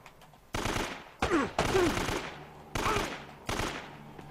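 Bursts of gunfire from the video game Uncharted: Drake's Fortune, five loud volleys spaced across a few seconds, each fading quickly, with no talking over them.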